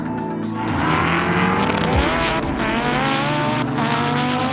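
A 2005 Subaru WRX half-mile race car, the PRE Racing Black Widow, roars loudly as it drives and accelerates, engine pitch climbing through gears with a brief tire squeal.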